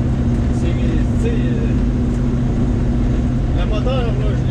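A restored 1978 K25 engine runs steadily just after its first start, a constant loud low hum and drone filling the whole stretch, with someone talking faintly over it.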